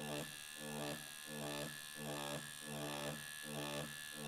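A tattoo machine buzzes faintly but steadily while shading with horizontal strokes of the needle tip, its hum swelling and easing in a regular rhythm about twice per second.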